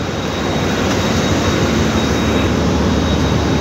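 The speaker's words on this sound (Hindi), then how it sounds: "आज जैसा कि हमने आपको कूलिंग टावर के बारे में बताया, उसके वर्किंग के बारे में" Steady, loud broadband roar of a working cooling tower, a constant rushing hum of fans and falling water with no breaks and no talking.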